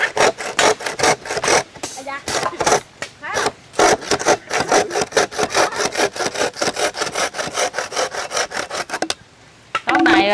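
A handsaw cuts wood for a fish trap in rural southern Vietnam, rapid rhythmic rasping strokes close up, pausing briefly before resuming, with a short gap near the end.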